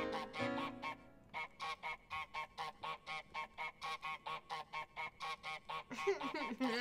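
The goose in Untitled Goose Game honks in a rapid, even series of about fifteen loud calls, followed by a few softer squawks at the end.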